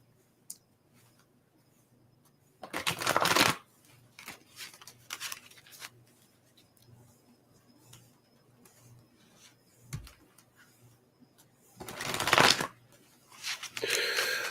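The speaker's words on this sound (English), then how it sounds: "A couple nice shuffles here." Playing cards being riffle-shuffled: a few short, crisp rattling bursts separated by quiet stretches with faint handling clicks.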